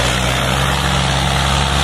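A New Holland 3630 tractor engine runs hard while hauling a fully loaded trailer, giving a loud, steady, rumbling drone with no pauses and no voices over it.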